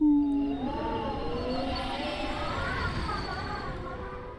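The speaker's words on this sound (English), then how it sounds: "maybe a wolf howl." A video game wolf howl sound effect: long wavering howls rising and falling over a cold, windy ambient bed, steady and moderately loud with no talking.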